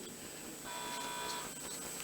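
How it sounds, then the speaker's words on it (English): A quiz show answer buzzer sounds as a sustained electronic tone that holds steady for over a second, clear but moderately quiet against studio room noise. "the buzzer, you pressed it."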